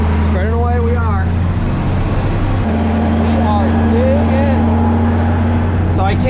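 A John Deere 7520 tractor drives across a field while spreading, its engine a loud, steady drone inside the cab, with a person talking over it throughout.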